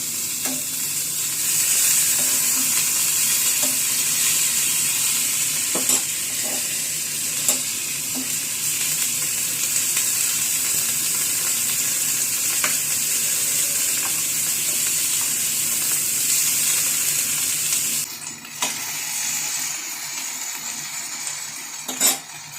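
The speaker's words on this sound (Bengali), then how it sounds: "এক পিঠ ভাজা হয়ে গেলে তারপরে অন্য পিঠটা আবার ঘুরিয়ে দেবো" Vetki fish paturi, fish wrapped in leaves, fries steadily in a covered pan with continuous close sizzling, broken by occasional utensil clinks and a clatter near the end as the lid is handled.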